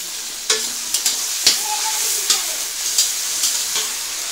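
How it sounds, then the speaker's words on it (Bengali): Fish head frying with chopped garlic in a pan, a steady close sizzle broken by repeated sharp scraping and stirring strokes, with no talking. "দিয়ে এখন এই মাছের মাথাটাকে ভালো করে ফ্রাই হবে"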